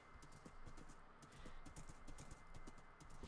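Quick, regular clip-clop of a horse's hooves trotting in Minecraft, crisp and rhythmic, with a soft background hum and no speech.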